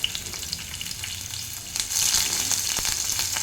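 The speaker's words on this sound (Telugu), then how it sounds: "ఇప్పుడు ఇందులోనే జీలకర్ర వేస్తున్నాను, ఆవాలు వేస్తున్నాను, ఉల్లిపాయ ముక్కలు" Cumin, mustard seeds and chopped onion crackle in hot oil for a cluster bean fry, a dense close sizzle with scattered pops that swells louder partway through.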